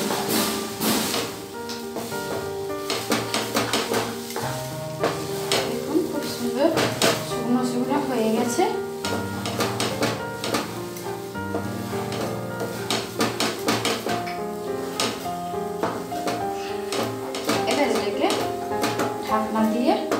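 Semolina halwa mixture stirred in a pan on a gas stove, giving repeated clinks and scrapes of a utensil against the pan over steady background music.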